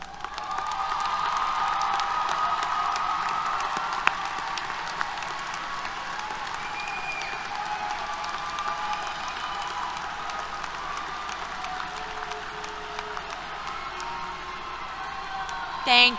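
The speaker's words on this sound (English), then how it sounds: "And graduates, this is your chance to applaud them." At a Texas A&M University-Corpus Christi summer commencement, graduates applaud their standing families: a long, even wash of clapping in a large hall, with scattered whoops and cheers, fading slightly toward the end.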